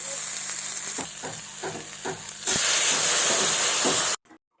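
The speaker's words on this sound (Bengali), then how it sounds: "এবার আমি দিয়ে দেবো জল" Okra and fish curry fries with steady sizzling and a few stirring scrapes, then water poured into the pan sets off a loud, hissing burst of steam that cuts off abruptly.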